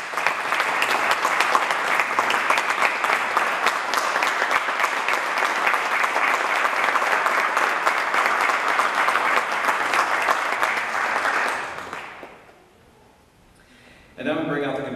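An awards-ceremony audience for a high school trumpet solo division winner breaks into loud, sustained applause lasting about twelve seconds, then fades to near silence before a voice speaks.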